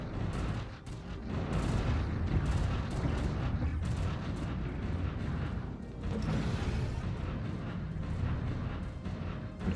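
Battleships in the space strategy game Stellaris unleash large torpedoes and lasers, a continuous rumble of deep booms and blasts layered over one another, loud and dense with brief dips in intensity.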